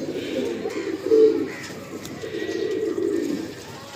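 Andhra pigeons in a full loft coo steadily at close range, with low, throaty rolling calls overlapping in waves and one louder coo standing out near the start.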